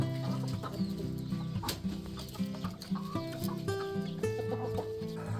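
Rooster and hens in a flock, clucking and short calls coming in an irregular patter of close, fairly quiet bursts, with no people talking.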